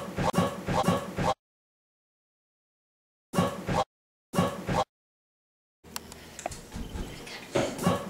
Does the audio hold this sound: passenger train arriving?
no